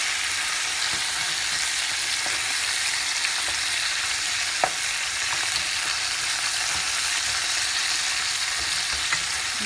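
Chicken pieces fry in a pan for Guatemalan pollo guisado, a loud, constant sizzle with occasional small pops and crackles throughout.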